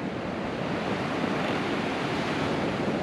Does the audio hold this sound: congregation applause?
no